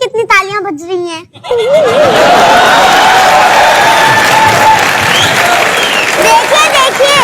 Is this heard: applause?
yes